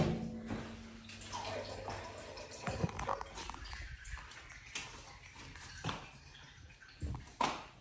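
Something being washed under running water in a sink at home, a steady splashing stream with scattered clatters and knocks, close and moderately loud, no talk.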